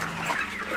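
Dense clucking from many chickens on a poultry farm in Côte d'Ivoire forms a steady, fairly loud chorus with no pauses.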